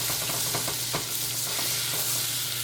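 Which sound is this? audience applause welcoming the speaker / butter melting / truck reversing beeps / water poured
butter melting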